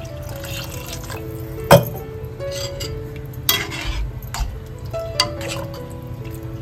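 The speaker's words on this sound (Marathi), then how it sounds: "आता ह्याच्यामध्ये ना आपण थोडं थोडं पाणी घालून घेतोय" Water poured little by little into curry masala in a pan, giving soft drips and small splashes with a few sharper splash peaks, close and moderately quiet.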